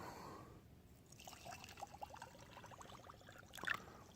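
Water pours into a glass jar in a soft, uneven trickle with a bubbling rhythm, building slightly and ending with a small splash or clink near the end.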